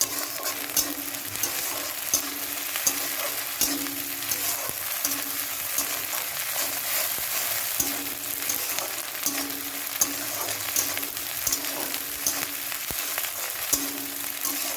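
Chicken pieces with capsicum frying in a pan for a simple chicken curry, with a steady close sizzle and repeated stirring scrapes throughout, no voices.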